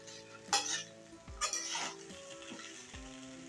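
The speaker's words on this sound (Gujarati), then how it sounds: "હવે આ પૌવાને આપણે એકવાર સરસ પાસા હલાવી લઈશું" Cooked poha with potatoes stirred in a pan, giving a few spoon scrapes and metallic clinks against the pan over a low sizzle, close and fairly quiet, with no talking.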